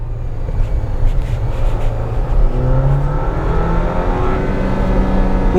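Jeep Wrangler Rubicon Power Top engine revving while held in manual low gear, first or second, without upshifting: a loud, steady, rising engine drone heard from inside the cabin throughout, with no talk.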